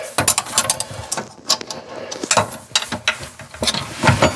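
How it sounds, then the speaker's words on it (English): A Phillips screwdriver tightens two screws on a matte black bathroom faucet, producing irregular ratcheting clicks and scraping metal ticks in quick bursts, close and fairly loud, with no talk. "So now all I'm doing is tightening up those 2 screws."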